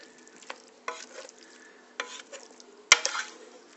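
Offal with green onion and dill sauteing in extra virgin Greek olive oil, quiet sizzling broken by several sharp stirring scrapes and one loud utensil knock against the pan.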